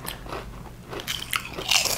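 Crunchy cucumber-flavored chips are bitten and chewed up close, giving a few sharp crackling crunches in quick succession with no talking.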